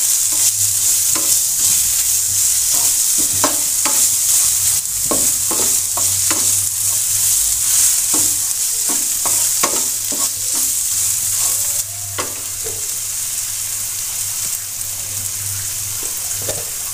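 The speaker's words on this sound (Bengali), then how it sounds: "মশলাগুলো কিছুক্ষণ নেড়ে চেড়ে ভেজে নেব, যাতে মশলার কাঁচা গন্ধ না থাকে।" Ground coriander and cumin powder fry in a pan with a steady loud sizzle while a spoon scrapes and stirs in repeated short strokes, close up and with no voices.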